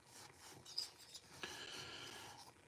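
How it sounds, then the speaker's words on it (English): A hand file rasps over metal during cylinder work in a shop, with several faint scraping strokes close by at a quiet level and no speech. "I do all hand filing here now."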